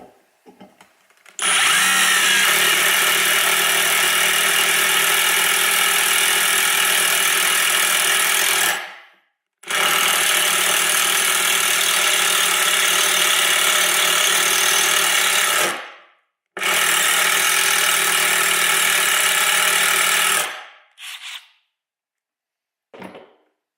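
Milwaukee M12 FUEL 1/2-inch hammer drill (2504-20) running in hammer mode, boring in three long loud bursts of several seconds each, separated by short pauses, then a brief final blip.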